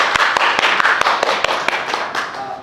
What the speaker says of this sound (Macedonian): Уште еден аплауз